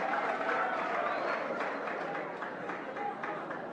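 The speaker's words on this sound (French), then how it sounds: "Applaudissons pour le président Félix Antoine Tshisekedi." A crowd applauds President Félix Antoine Tshisekedi at a public gathering, sustained broad clapping that holds steady and tapers slightly, with faint voices mixed in.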